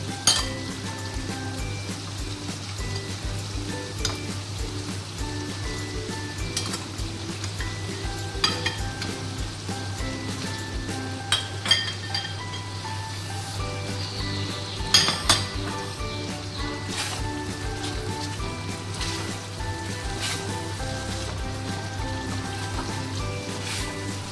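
Soaked paneer goes into a hot pan and fries with a continuous close sizzle, while a metal spatula repeatedly clinks and scrapes against the pan as it is stirred.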